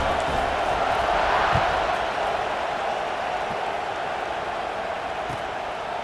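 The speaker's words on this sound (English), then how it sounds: "this crowd is feeling themselves after that last drive" A stadium crowd roars steadily in the EA Sports College Football 26 video game during a kickoff after a scoring drive, a dense, loud wash of cheering that holds for several seconds with no clear individual voices.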